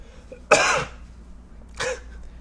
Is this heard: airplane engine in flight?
no